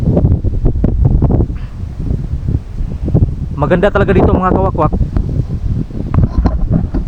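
Strong gusts buffet the microphone in a constant low roar at a cemetery, with a person talking briefly over the wind partway through.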